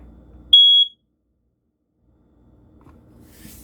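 A home smoke detector under test lets out one loud, piercing beep of about half a second, followed by near silence and faint room noise.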